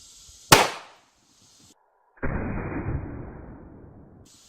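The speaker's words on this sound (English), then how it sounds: "Let's see if the 22 long rifle can make it through." A .22 Long Rifle round fired into a tub holding 15 gallons of oobleck: one loud, sharp gunshot, a short silence, then a dense splattering burst that trails off.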